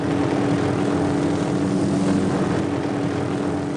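A military helicopter flies by with a loud, continuous engine and rotor drone that stays steady and close throughout, with no voices.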